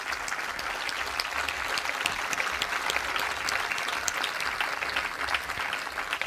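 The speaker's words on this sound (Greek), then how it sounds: "ένα μεγάλο χειροκρότημα" Sustained applause from an audience at the closing of a commemorative event, steady dense clapping filling the whole stretch with no voices over it.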